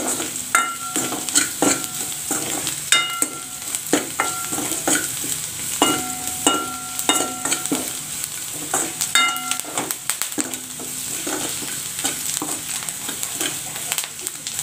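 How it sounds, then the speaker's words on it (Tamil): Onions sauté in coconut oil in a pan for country crab soup, a steady sizzle broken by frequent clinks and scrapes as a utensil stirs the pot at close range, with no talking. "இந்த சூப்புக்கு வெங்காயம் நல்லா வதங்கிக்கிட்டோம்."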